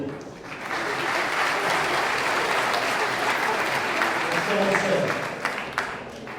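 A crowd at a French Republicans party visit to Tunis applauds warmly, the clapping swelling in after a quiet start and holding steady and full, with some voices mixed in.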